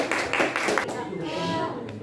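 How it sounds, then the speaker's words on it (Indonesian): Classroom group claps for the first presenting group, a brief burst of clapping at the start that fades quickly as voices take over and talk continues. "beri tepuk tangan dulu untuk kelompok satu"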